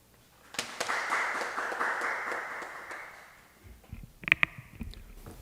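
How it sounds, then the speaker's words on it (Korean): A crowd gathered in the rain at Gwanghwamun for a Hangeul Society signboard ceremony claps to welcome a speaker, a spread of steady hand claps that swells, then fades out, followed by a few scattered knocks. "박수로 맞아주십시오"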